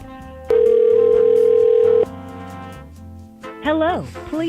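Telephone line tones after dialing: a steady loud tone holds for about a second and a half, then fades, followed by a rising and falling recorded chime.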